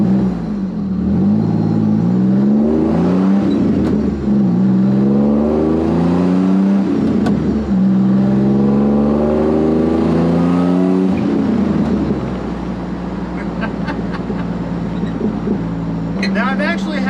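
A supercharged Pontiac Fiero race car engine revs loudly and climbs through repeated rising pulls, each surge followed by a shift and a new climb, then settles into a steady drone near the end. The engine sounds close and fills the whole clip.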